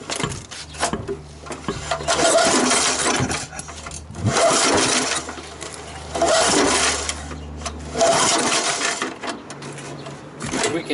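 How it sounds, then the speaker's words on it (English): A lawn mower engine, its cylinder head just refitted after a vinegar combustion chamber cleaning, turns over and sputters close by in repeated surging bursts about every two seconds, a rough mechanical rattle between them. "Right now I'm just gonna warm up the lawnmower to operating temperature."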